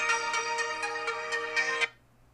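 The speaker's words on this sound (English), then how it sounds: "I thought my phone was on silent" A mobile phone ringtone plays nearby, a bright looping melody of repeated tones pulsing steadily for about two seconds before cutting off abruptly into quiet.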